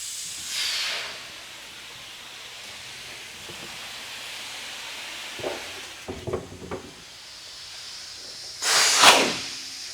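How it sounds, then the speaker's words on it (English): Steam cleaning a wine barrel at a Sonoma winery: soft, airy hissing that swells and fades, with a few knocks and clatters and a loud burst of steam near the end. "So that's the steam pulling all that stuff out of it."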